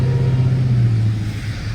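A Dodge Challenger Demon idling in a snowstorm, its engine giving a loud, close low rumble with a steady tonal drone that dips slightly, a brief continuous sound with no talk.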